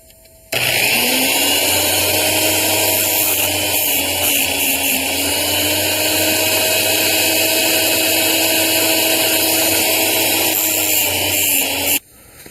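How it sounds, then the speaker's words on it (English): A grinding disc sharpens the chain of a Stihl MS 230 chainsaw, a loud continuous high-pitched whine from a steady-running motor that starts abruptly, holds for about eleven seconds and cuts off. "let's get this chain nice and sharp"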